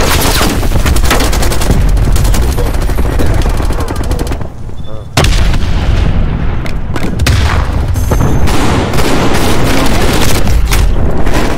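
Shotgun and rapid gunfire from Call of Duty Cold War blast loudly and almost without pause, heavy booming shots stacked over each other, with one brief lull before the firing resumes.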